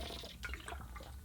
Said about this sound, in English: Just quick drink of water